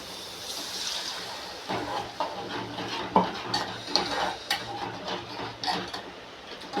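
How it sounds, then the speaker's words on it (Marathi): Spiced masala water poured into a pan of besan pola curry and stirred, a soft simmering hiss with a series of irregular clinks and scrapes of a spoon against the metal pot, close by and no voices. "आता याच्यामध्ये आपण हे मसाल्याचं पाणी टाकून घेऊ"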